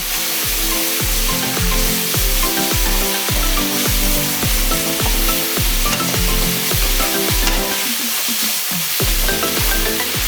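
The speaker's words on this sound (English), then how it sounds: "And now we're gonna get stir frying." Wide rice noodles for pad see ew being stir-fried in sauce, a loud continuous sizzle punctuated by rhythmic scraping and knocking of a utensil against the pan roughly every half second.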